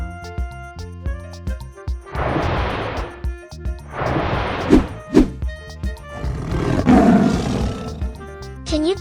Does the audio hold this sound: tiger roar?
yes